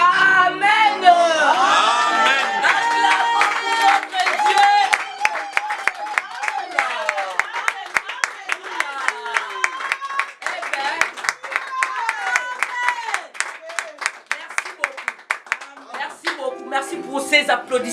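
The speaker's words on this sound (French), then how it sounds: "Merci pour ces applaudissements." A congregation claps rhythmically in sharp, regular beats alongside singing voices, fairly loud and close, with the singing carrying over the steady clapping.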